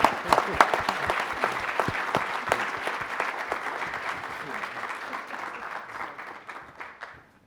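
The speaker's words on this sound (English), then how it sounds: "So interim applause." Audience applause at a cybercrime solutions event: a crisp, fairly close burst of many clapping hands that starts strong, then gradually thins and fades toward silence by the end.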